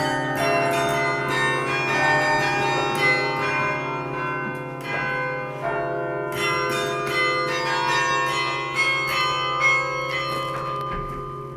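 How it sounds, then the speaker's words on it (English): Campanile carillon bells ringing out in a sustained concert, many overlapping tones struck in melodic runs with long ringing decay, loud and steady throughout without any talk. "It's physically difficult work to get the bells sounding perfect again"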